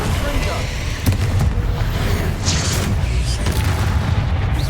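Bombarda blast spell from Hogwarts Legacy: a loud, close explosive boom with a sharp crack near the start and rumbling low-end debris, followed by further thuds amid continuous game noise and a voice talking.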